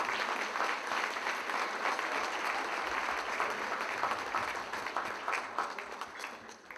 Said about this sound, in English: Ladies and gentlemen, please give him a big round of applause